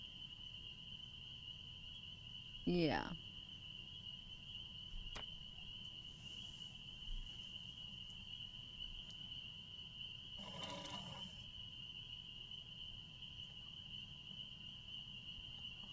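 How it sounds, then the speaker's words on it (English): A constant high drone of insects and frogs fills a quiet night, with a brief rising call and a short burst of chirping partway through. "Can you hear the insects out there and the frogs?"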